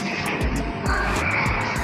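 A rotary evaporator in a school pharmacy lab runs with a steady, fairly loud mechanical whir, with faint rhythmic pulses repeating beneath it throughout.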